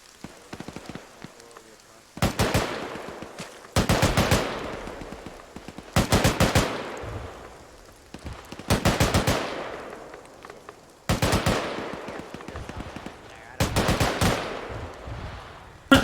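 Bursts of machine gun suppression fire in a military video game, six long rapid volleys roughly every one to two seconds, loud and close, each trailing off into a short echoing decay.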